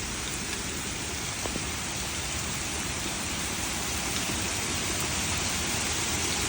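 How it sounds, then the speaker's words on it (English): Heavy storm rain pours down in dense, wind-driven sheets during a flash-flood and tornado-warning storm in town, a steady loud wash of noise with no letup and no voices. "the rain's kind of making sheets of rain coming down"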